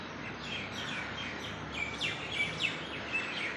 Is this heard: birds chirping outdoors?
yes